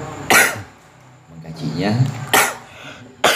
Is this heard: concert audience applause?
no